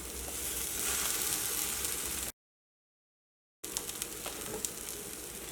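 Bread fries in oil on a dosa griddle with a continuous close hiss and crackle, broken by a sudden short gap of silence before the sizzling resumes with a few sharper pops.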